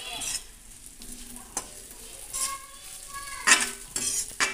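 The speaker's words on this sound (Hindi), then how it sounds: "घी गरम हो गया है, इसमें तिल ऐड कर देंगे और तिलों को भी हम अच्छे से फ्राई करेंगे" Sesame seeds fry in hot ghee for sweet jaggery laddus, a steady close sizzle broken by several louder scrapes and clinks of a spoon stirring against the pan.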